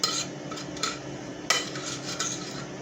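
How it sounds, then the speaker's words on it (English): Seasoning for BBQ ribs stirred in a bowl with a metal utensil, giving a few sharp clinks and scraping swirls in short bursts, close and clear with no talking. "So first thing I'm gonna do is mix all of my seasoning up."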